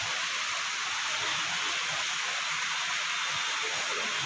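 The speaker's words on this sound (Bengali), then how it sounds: "তো দেখতে পাচ্ছ কি খুব জোরে বৃষ্টি শুরু হয়েছে আর ভীষণ ভালো লাগছে" Heavy rain falling steadily at night, a dense, continuous broadband hiss with no breaks, loud and close throughout with faint low thumps underneath.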